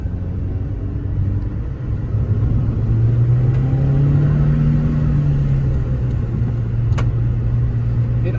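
Citroen C2 hatchback with a newly installed clutch, driving on the road with a steady low engine drone that rises in pitch as it pulls, then drops briefly near the end, heard from inside the cabin.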